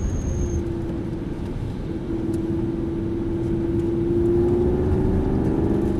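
An Aston Martin V8 Vantage on a track, held in third gear as it pivots and then picks up speed again: a steady engine drone that climbs slowly in pitch, close and loud, with no voices.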